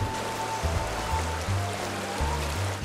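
A flowing river stream where trout are fished, a steady broadband water rush continuing evenly throughout with no talk over it.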